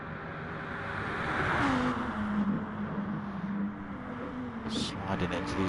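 Lamborghini Gr3 race car engine from a racing video game held at full throttle down a back straight at the Nurburgring, a steady droning whine with a slowly shifting pitch, heard under a commentator's continuous talk.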